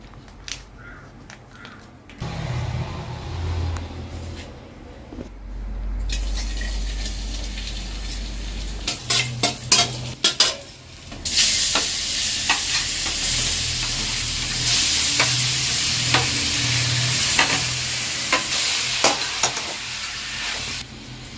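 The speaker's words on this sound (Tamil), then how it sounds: "இப்போ நம்ம அடுப்பில் பேன் வச்சுட்டோம் நெய் ஊற்றிக்கலாம்" Ghee heats and is stirred in a pan on a stove, giving a steady sizzle with intermittent scraping and clinking of a utensil against the pan, close and fairly loud, with no talking.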